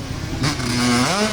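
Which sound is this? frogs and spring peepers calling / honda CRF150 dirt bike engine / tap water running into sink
honda CRF150 dirt bike engine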